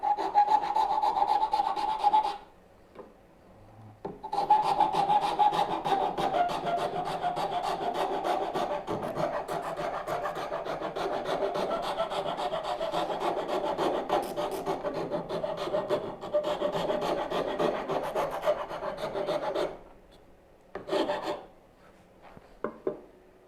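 A number 10 rasp files wood along a curve in long continuous rasping strokes, close and steady, broken by a short pause early on and a few brief strokes at the end.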